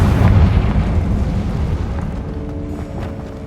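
A loud, close fire-blast explosion from the Confringo spell in Hogwarts Legacy booms out at once, then fades into a rumbling decay with crackling debris.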